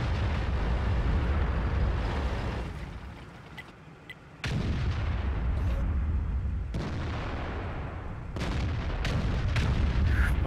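Tank cannon shots and shell impacts from World of Tanks crack out in a sustained barrage of heavy booms and bursts, loud and close, with a brief lull midway before the firing resumes.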